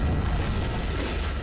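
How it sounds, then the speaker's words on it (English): A time grenade explosion in Soldier of Fortune, a deep rumbling boom with a broad roaring wash of noise that holds loud and then slowly trails off. "Well, I've time grenaded myself."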